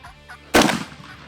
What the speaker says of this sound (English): So I let a shot go